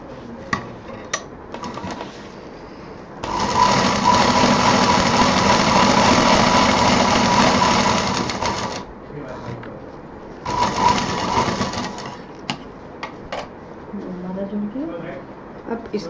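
An electric sewing machine stitches a fabric sling bag, running in a steady whir for about five seconds, pausing, then running again in a shorter burst, close and loud, with someone speaking between the runs.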